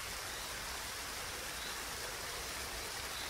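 A flowing stream of moving water in a meadow setting gives a soft, steady rushing hiss, faint and even throughout with no other sounds.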